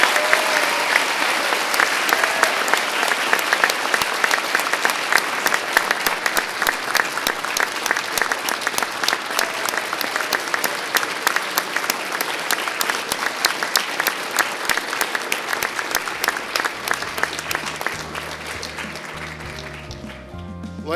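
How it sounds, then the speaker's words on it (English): Sustained, roaring applause from a large audience at a fire academy recruit graduation, many hands clapping steadily for a long stretch before tapering off and fading toward the end. "one more round of applause for our graduates"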